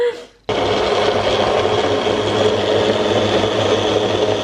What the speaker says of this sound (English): I think I need to get a bigger blender because obviously this is just a small NutriBullet one